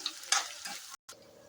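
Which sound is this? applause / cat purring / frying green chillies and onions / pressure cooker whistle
frying green chillies and onions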